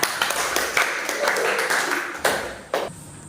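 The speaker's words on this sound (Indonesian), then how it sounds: "Ya, tepuk tangan untuk Eca." Several bursts of hand clapping from a small group, uneven and brief, separated by short pauses.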